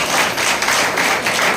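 A church congregation claps together in a steady, loud, continuous wash of hand claps filling the room without a break.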